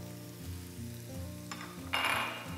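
Onion with salt and a bay leaf sweats in a pan, giving a soft steady sizzle that swells to a brighter hiss near the end, with a low hum behind it and no talking.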